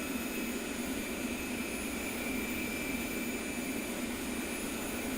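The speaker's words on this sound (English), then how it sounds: "That right turbine is starting to spin." Steady broadband whine and roar of an A-10's right turbine engine spooling up in a flight simulator game, a continuous even drone with high tonal hums and no voices.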